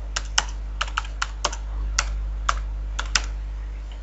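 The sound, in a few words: typing a password on a computer keyboard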